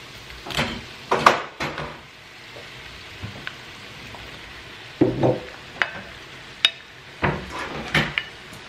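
Garlic, onion and meat frying in butter in a pan: a low, steady sizzle broken by several sharp bursts of stirring and utensil clatter at irregular intervals.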